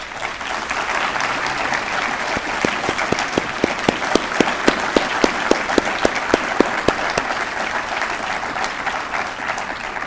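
Sustained applause from a graduation ceremony audience, a dense, steady wash of clapping lasting the whole stretch with a run of sharper individual claps standing out near the middle.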